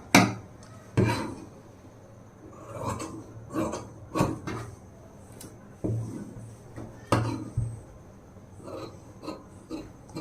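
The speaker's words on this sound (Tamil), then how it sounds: "இப்போ கட் பண்ணி எடுத்துடலாம்" Scissors snipping through blouse fabric along a marked line, a series of close, irregular crisp cuts and rustles against a table, quiet and without talk.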